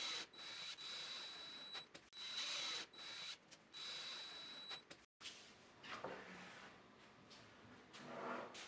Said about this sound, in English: I'm gonna pre-drill a little hole right here